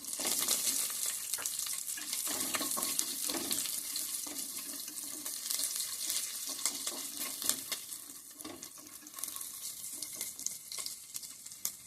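Green chillies frying in oil in a pan for coconut pulao, a dense crackling sizzle that runs throughout with occasional stirring scrapes, fairly close and steady.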